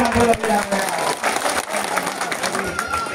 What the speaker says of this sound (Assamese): মই সকলোকে এটা জোৰকে হাত চাপৰি মাৰো